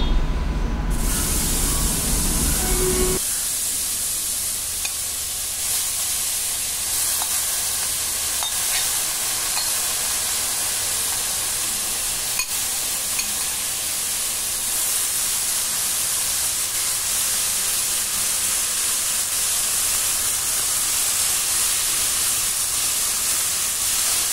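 Chopped banana stem hits a pan of fried garlic for a traditional Bengali thor dish. A sharp burst gives way to a steady, loud broadband sizzle and hiss that carries on unbroken, with no talking.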